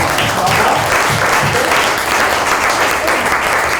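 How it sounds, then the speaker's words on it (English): A large conference audience breaks into loud, dense applause, a thick wash of clapping that stays strong and even throughout, with faint cheering underneath. "Can we applaud that, please?"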